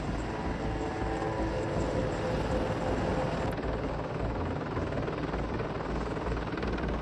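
A Mil Mi-28 Havoc Russian attack helicopter with twin Klimov TV3-117 turboshaft engines gives a loud, continuous rotor and turbine roar, steady and close throughout.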